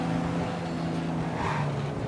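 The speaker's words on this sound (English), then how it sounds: "But I like the way the engine sounds on this car." A car engine in Mafia Definitive Edition hums steadily with a low, sustained drone throughout, joined briefly by a faint rising swell near the end.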